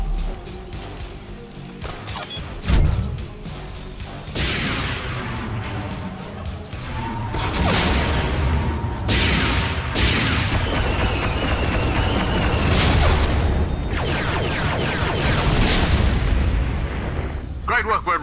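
Speeder cannon fire and explosions in a Lego Star Wars stop-motion battle on a beach, with heavy turret fire: booming blasts and crashing impacts that build into a sustained, dense barrage, with voices mixed into the chaos.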